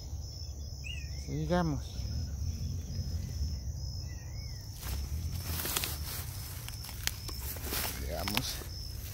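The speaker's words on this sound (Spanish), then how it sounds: "y mucho insecto, seguro. Grillos, hormigas, mariposas que se encuentran acá." Crickets chirp in a steady high-pitched trill along a wild, reptile-filled outdoor trail, with footsteps, rustling and occasional other calls nearby, and a person speaks briefly over it.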